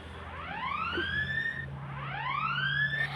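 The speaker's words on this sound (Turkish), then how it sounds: "Kanka alarmı da göstersene." A home security alarm wails in two rising electronic sweeps, loud and close, repeating over a low steady hum, with no talking.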